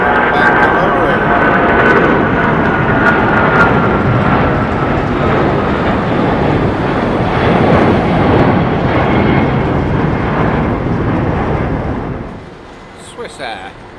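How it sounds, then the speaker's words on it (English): A Boeing 777-200 jet at London Heathrow roars loud and close with a deep rumble and engine whine, holding steady before fading sharply near the end. "It's a Boeing. It's a 777-200, but where's it going?"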